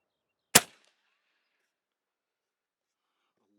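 A single sharp shot from an Airforce Escape .25 caliber air rifle fired over a chronograph, one loud close crack that decays quickly into near silence.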